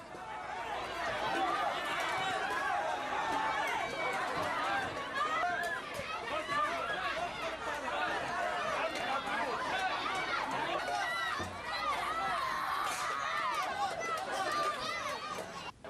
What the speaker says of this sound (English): Children, women and men crowd around communal cooking stations begging for a ladle full of watery bean soup.